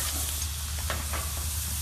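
Steaks sizzle on a flat top grill while cooking a Christmas breakfast, a steady close hiss of frying fat with faint scraping, no voices over it.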